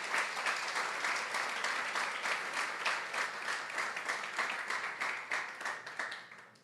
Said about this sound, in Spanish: Vamos, denle un fuerte aplauso al Señor por eso.